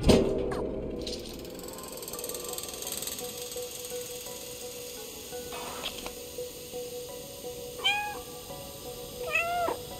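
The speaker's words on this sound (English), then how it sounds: "Meow, meow, meow." A cat meows twice in the video game Stray, short faint calls near the end over a steady low ambient hum, with no talk.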